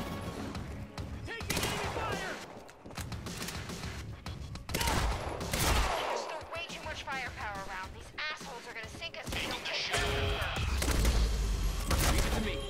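Gunfire in the video game Quantum Break, with repeated sharp shots and bursts scattered through a busy, loud game mix and music, with voices heard throughout.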